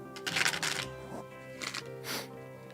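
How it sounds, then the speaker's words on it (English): A deck of tarot-style cards being shuffled by hand without a table, bursts of rapid riffling and papery slapping in several quick runs, close and moderately loud. "let me shuffle for Taurus"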